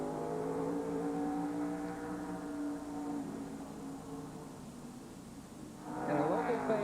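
A NASCAR Busch Series race car on the Bristol oval during qualifying drones loudly at steady high revs, fading slightly before another engine swells in close at the end.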